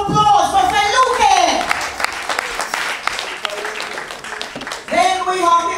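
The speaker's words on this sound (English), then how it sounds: "A round of applause for Say Luke." Audience applause at a music competition quarter final, steady clapping throughout with music and singing audible over it and a voice at the start and end.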